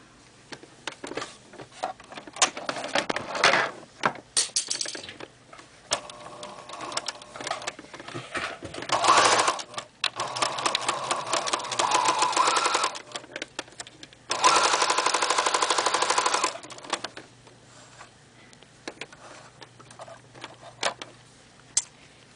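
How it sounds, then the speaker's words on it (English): Sewing machine stitching two pajama leg pieces together, running in several bursts of rapid mechanical whirring of varying length, with a long steady run near the end and quiet handling pauses between. "we're going to sew these two together"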